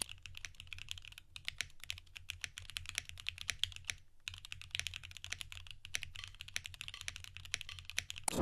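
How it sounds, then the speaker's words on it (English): Steady, fast typing on a Luminkey65 pre-built mechanical keyboard, producing crisp, clacky keystrokes close up with only a brief pause midway. "after using this board for a little while in my preferred configuration, it really does sit in that nice clacky range that I look for in keyboards"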